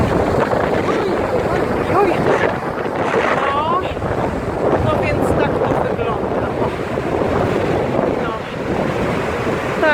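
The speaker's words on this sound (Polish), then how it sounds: "Takie morze wzburzone" Rough, stormy sea in windy weather, with crashing surf and loud wind buffeting the microphone without pause, close and roaring throughout.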